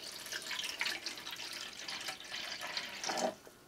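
Tap water runs steadily from a faucet into a Brita filter pitcher, a continuous splashing hiss that swells near the end and then stops abruptly, with no talking.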